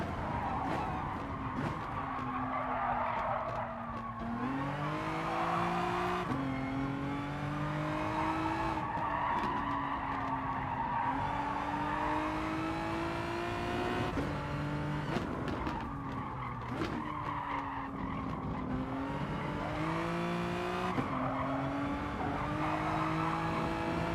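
Race car engine in GT Sport revving hard through repeated gear changes, rising and falling pitch sweeps with occasional tire squeal, loud and continuous for over twenty seconds with no talk.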